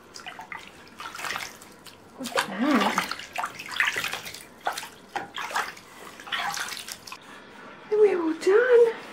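A baby splashes in warm bathwater in a home bathtub, with soft irregular sloshes and drips close by under an adult's sing-song voice, which carries a short melodic phrase near the end.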